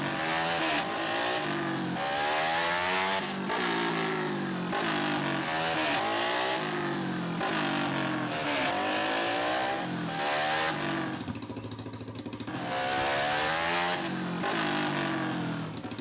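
A Yamaha Fazer 250 motorcycle engine runs close by, its pitch rising and falling over and over as the throttle is worked, steady and continuous throughout.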